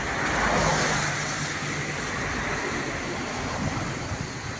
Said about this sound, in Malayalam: ഒരു ഒരു തോട് ഒഴുകുന്നുണ്ട്